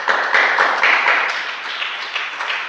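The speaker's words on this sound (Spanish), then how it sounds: "Dale un aplauso al Señor." A church congregation in Morelia applauds the Lord, a steady, dense wash of clapping that holds for a few seconds and tapers slightly toward the end.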